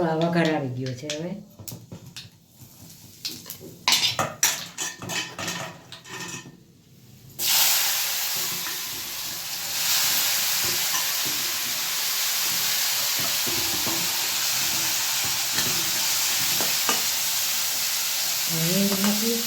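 Cumin, mustard seed and fenugreek tempering in hot oil sizzle loudly and steadily at close range, with someone talking over the first few seconds before the hiss takes over.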